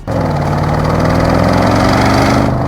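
Audi RS6 Avant V8 engine droning loud and steady from inside the refined cabin, a dense continuous rumble with layered harmonics, no pauses and no voices.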